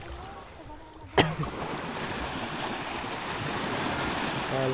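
Sea waves washing onto a beach, a continuous rushing surf with wind buffeting the microphone, preceded by a sharp knock, with faint talk in the background.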